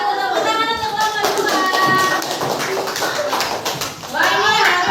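Elementary school children in a Surabaya classroom clap for a group, loud close hand claps in a rough rhythm mixed with children's voices and chatter.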